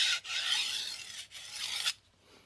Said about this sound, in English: I'm just going to do some light passes that are stropping kind of strokes.